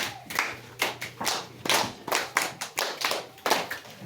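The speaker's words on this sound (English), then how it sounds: "Can we clap for Norman?" An audience claps for a child reader at a community library early childhood session, with a quick flurry of hand claps, sharp and close, that carries on for about four seconds with no talking.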